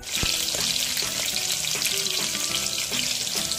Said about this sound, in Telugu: బాగా వేగిన తర్వాత పచ్చిమిర్చి వేయాలి